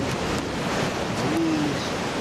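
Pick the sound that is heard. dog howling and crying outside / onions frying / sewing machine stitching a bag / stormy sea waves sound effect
stormy sea waves sound effect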